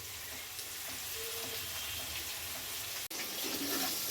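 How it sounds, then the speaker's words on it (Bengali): Green chilies sizzle steadily in hot oil in a pan with onion, ginger, garlic and tomato, a close continuous crackling hiss with a brief break near the end. "এই কাঁচা লঙ্কাগুলো তেলের মধ্যে দিয়ে দিচ্ছি"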